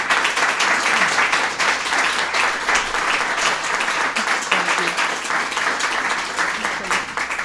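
A crowd gives sustained, enthusiastic applause for the First Lady at an event on childhood obesity, dense clapping holding steady at full strength for several seconds.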